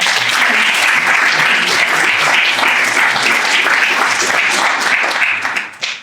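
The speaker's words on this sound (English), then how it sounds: "So can I get another round of applause?" Audience at a Persian New Year (Norooz) panel discussion breaking into dense, steady applause that fills the room and carries on evenly before tapering off at the very end.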